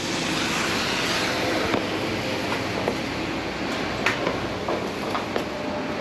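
A high-pressure sewer jetter clearing a drain from a flooded basement runs with a loud, steady mechanical roar and high hissing rush throughout, with faint occasional knocks.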